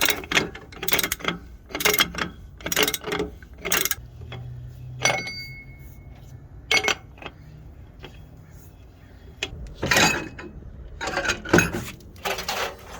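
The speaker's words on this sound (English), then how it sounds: "So we're going to start unscrewing this nut, and you're going to see the hub coming out already." Hub nut being unscrewed on a Freightliner Cascadia truck wheel: close metallic ratcheting clicks and clinks in irregular bursts, with scraping metal and brief pauses between turns.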